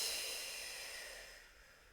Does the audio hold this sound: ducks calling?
no